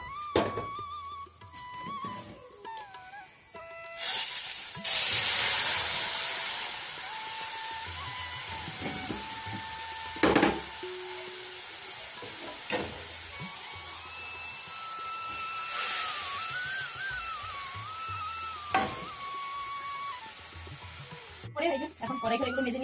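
Leftover fish curry reheating in a pan, giving a hissing sizzle that swells loudly for a few seconds and returns more faintly later, among household clatter and a steady high whine.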